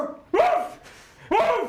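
A dog barks twice, loud and close, each bark sharp and separated by a short pause, with no talk over it.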